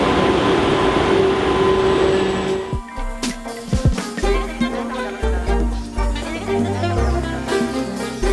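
Train ride in Korea on a day trip between Gyeongju and Seoul: a steady, loud rumble for the first few seconds, then a quieter, uneven interior with low thumps and clatter.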